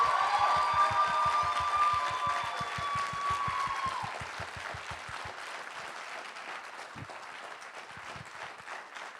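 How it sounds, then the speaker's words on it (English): Audience at a 2019 graduation ceremony applauding the teachers, a broad wash of clapping over a steady rhythmic low thump that fades after a few seconds, with a sustained tone early on, continuing at moderate level. "can I have a big round of applause for all the lovely teachers"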